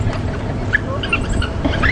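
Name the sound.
African wild dog pups squeaking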